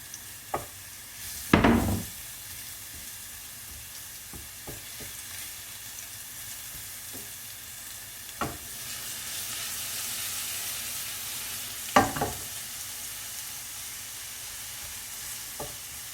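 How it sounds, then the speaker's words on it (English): Garlic browns in a frying pan for chilli pickle with a steady close sizzle and hiss, broken by a few loud spatula knocks and scrapes against the pan. "I'm just going to let that garlic brown up"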